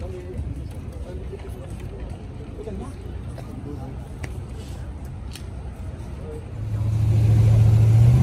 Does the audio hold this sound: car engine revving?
yes